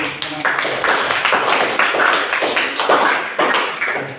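A classroom group claps in unison, a rhythmic series of about eight or nine sharp, evenly spaced claps at a moderate pace, fairly loud and close, with a faint voice underneath.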